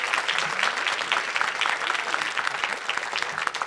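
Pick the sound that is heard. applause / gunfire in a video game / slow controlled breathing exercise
applause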